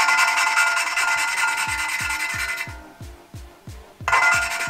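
Cylinder head valves are lapped by hand with grinding paste, making a quick, rhythmic series of scratchy back-and-forth rubbing strokes close up against a continuous background hum.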